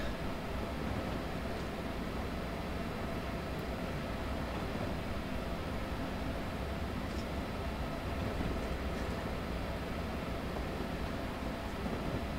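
An Amtrak Silver Meteor locomotive in Train Simulator 2019 gives off a steady, unbroken rumbling run sound, a broad dense roar at constant loudness for over twelve seconds with no talk.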